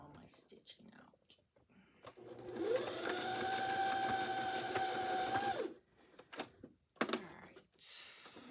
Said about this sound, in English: Let me sew that down again, because when I cut that edge off, it took some of my stitching out.